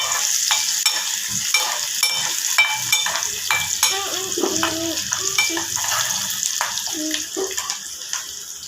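Onions and green chillies fry in a pan with a loud, close, watery sizzle and repeated scraping stirs, with a brief voice heard faintly partway through.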